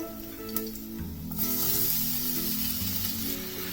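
Mango pieces dropped into hot tempering oil with mustard seeds, cumin, green chilli and curry leaves, a sudden loud sizzle that swells and then holds as a steady close hiss, with no talking.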